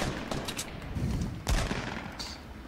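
Several gunshots from a Fortnite battle crack out in an uneven burst, with a heavier blast near the midpoint, all over a continuous layer of in-game background noise.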